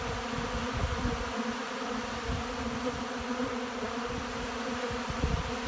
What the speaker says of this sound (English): You just clouds of bees while they actively forage on this supplement.